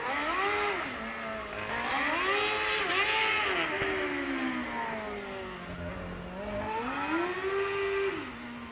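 A Formula Student electric race car passing by during a morning endurance session, its rising and falling whine sweeping smoothly in pitch over several seconds, moderately loud and steady with no talk.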